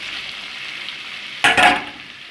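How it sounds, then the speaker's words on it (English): Ackee hits a hot pan and sizzles, a sudden loud burst of frying hiss rising over a quieter background sizzle, then fading slightly. "I'm gonna saute it for like 2 minutes before adding the ackee"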